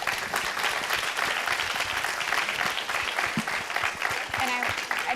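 A symposium audience claps steadily at the close of a climate change panel, dense continuous applause filling the room without pause.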